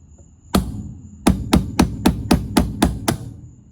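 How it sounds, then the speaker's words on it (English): Sharp metallic hammer blows: a single strike, a pause, then seven quick, evenly spaced hits, loud and close with no talking. "And a hammer."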